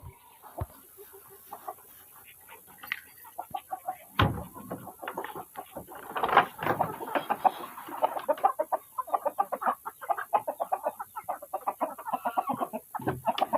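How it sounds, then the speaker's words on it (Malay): A hen clucks in a run of short, irregular calls while laying eggs, close and moderately loud, with quiet gaps between bursts. "ada ibu ayam tu dah tengah bertelur"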